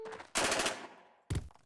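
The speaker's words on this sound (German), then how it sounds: "ich werde jetzt einfach mal einen Feuerstoß auf den abgeben" A burst of machine-gun fire in the video game Jagged Alliance 2, a loud rapid rattle of shots trailing into a fading echo, then a second short burst.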